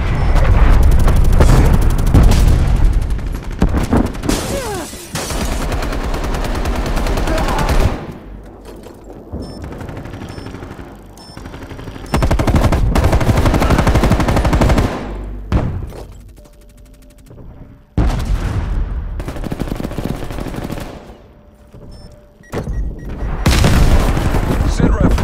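Incoming artillery fire in Black Ops Cold War: heavy booming blasts and rattling gunfire arrive in loud bursts separated by quieter gaps, with radio-style voices talking between the impacts.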